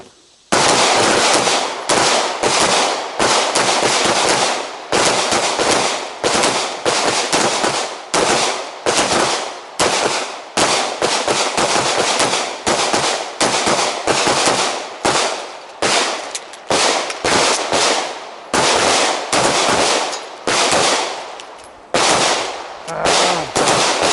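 Handgun shots fired one round per target during a shooting drill with lateral steps on the draw and reload, a loud rapid string of sharp, close reports with brief pauses between groups.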